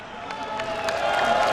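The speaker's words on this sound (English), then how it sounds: "Give it one big cheer for MaNa." Crowd of fans cheering at a StarCraft II esports event, IEM Katowice playoffs, a continuous roar of cheers and applause building slightly in loudness over the short span.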